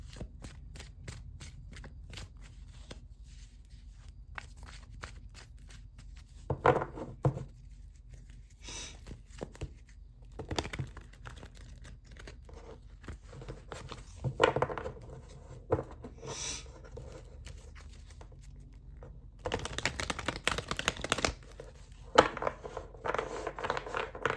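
Tarot cards being shuffled and drawn: soft, close flicks and riffles of card stock in scattered bursts, with quiet handling between them and a denser shuffling stretch toward the end, with no speech.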